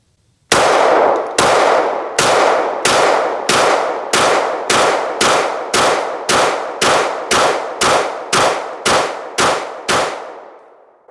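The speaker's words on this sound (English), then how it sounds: "got the ported model 17 rounder loaded up, just trying to see if there's any difference in recoil management, and I'm going to try to hold it the same, shoot it the same" A ported CZ P-10c compact pistol fires a 17-round magazine at steady pace: about fifteen loud, close, evenly spaced shots, each ringing briefly before the next, with no talking.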